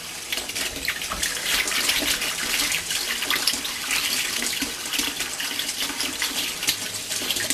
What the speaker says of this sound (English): I'm going to just rinse this O-ring off